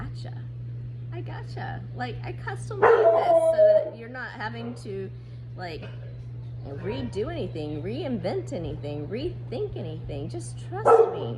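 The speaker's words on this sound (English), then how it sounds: "sorry about the dogs" Dogs barking indoors in short yappy bursts near the start and again near the end, mixed in with a woman's close, steady talking over a constant low hum.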